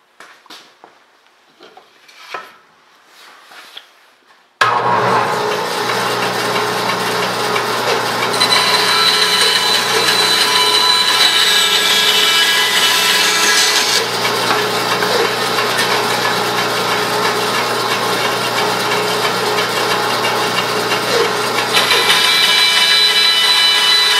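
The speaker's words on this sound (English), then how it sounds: "now I'm going to cut this with the bandsaw" A bandsaw slices through a wooden pen blank for woodturning: after a few seconds of quiet handling knocks, the motor kicks in loud and close, sustaining a steady buzzing, rasping cut through to the end.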